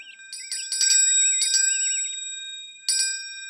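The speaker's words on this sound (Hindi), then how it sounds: "ये है घंटी" Bright bell chimes ring in a Hindi kids' cartoon, struck in quick clusters and then once more after a pause, each strike ringing out with a shimmering tail and a warbling tone between strikes.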